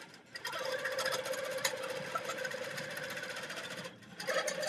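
A sewing machine with a glide foot stitching quilt fabric, a steady close mechanical whir that runs almost the whole time, stopping briefly near the end before starting again.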